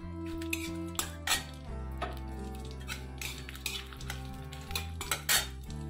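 Metal spoon scraping and clinking against a pan while whole cardamom fries in oil, with a faint sizzle under steady background music; the clatter comes in irregular close bursts.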